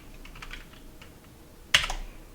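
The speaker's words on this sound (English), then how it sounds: "Here we're gonna type the word sudo, then we're gonna type period" Keys clack on a computer keyboard while a command is typed into an Ubuntu terminal: a quick run of soft, close keystrokes, then one sharper, louder key press.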